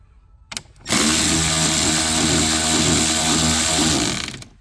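A power tool backs out a Torx T30 screw from a Range Rover Sport HSE dashboard, a loud, close, continuous motor whine lasting several seconds after a brief start-up blip.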